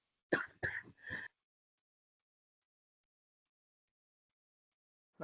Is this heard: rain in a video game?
no